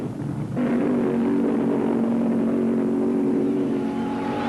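A 1,750 horsepower Hemi drag racing car from 1975 roars off, its engine note jumping abruptly to a loud, steady droning howl that holds without speech.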